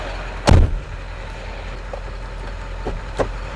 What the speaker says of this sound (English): Okay, so let's close the door.